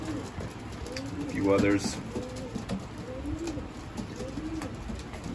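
Racing pigeons coo softly around a loft on a hot day, low repeated calls heard close by beneath someone talking.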